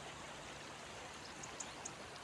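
Black olive-oil-factory wastewater flows steadily in Karınca Creek, Burhaniye, Turkey, a constant even rush with a few faint trickling splashes near the surface.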